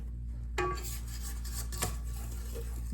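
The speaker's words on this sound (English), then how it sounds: "let's scrape the sides of the bowl" A spatula scraping the sides of a bowl of apple upside-down cake batter, two or three short scrapes against the bowl over a low steady hum, no talking.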